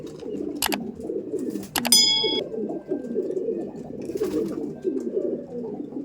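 Kaldom pigeons in the male room of a loft keep up continuous, overlapping low cooing, rolling and throaty, close by. Occasional sharp metallic clinks and a brief ringing ding break through, and no one speaks.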